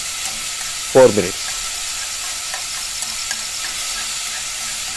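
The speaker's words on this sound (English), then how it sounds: "now add the sliced onion" Sliced onion sautés in a pan with a steady, close hiss of frying that runs the whole time, and a short spoken phrase cuts in near the start.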